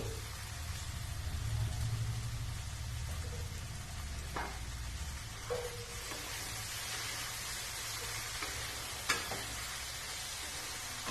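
Ground spice paste fries with splashes of water in a kadai for egg masala, a dense continuous sizzle broken by occasional scraping stirs of a spatula against the pan.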